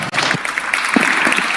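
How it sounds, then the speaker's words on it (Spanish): Standing applause fills a legislative chamber, the deputies clapping in honour of Carlos Alberto "el Indio" Solari, a dense, steady wash of many hands sustained loudly throughout without a break. "Sí pido que de pie le brindemos un fuerte aplauso a ese gran hombre de la cultura popular"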